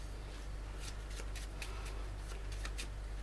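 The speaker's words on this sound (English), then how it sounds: "give them a good shuffle" A deck of playing cards being shuffled at a live magic show, a series of crisp riffling bursts over about three seconds against a steady low hum, with no talking.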